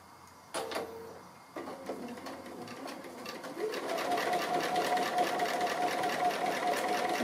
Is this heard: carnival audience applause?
no